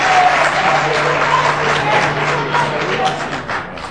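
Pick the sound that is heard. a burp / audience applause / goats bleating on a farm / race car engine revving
audience applause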